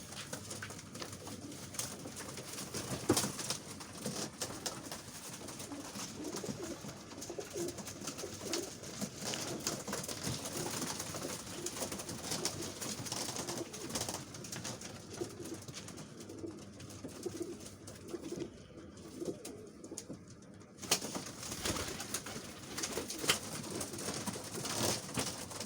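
Pigeons kept by a Dubai fancier coo steadily and softly nearby, with occasional wing flaps, continuing alone without talk.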